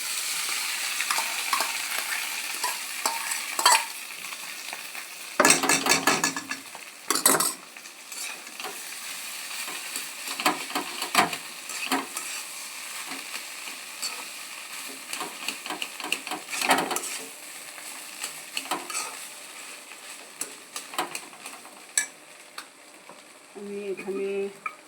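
Mashed potato stirred into hot oil with curry leaves in a small home kitchen pan, giving a soft, steady sizzle broken by irregular scraping and clinking of the spatula.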